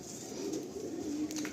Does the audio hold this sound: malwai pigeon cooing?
yes